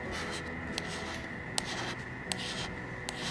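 Hand scraping (kisage) of a machined metal surface, done by pushing a scraper by hand, gives a steady dry scratching rasp with a few sharp strokes standing out, close and alone.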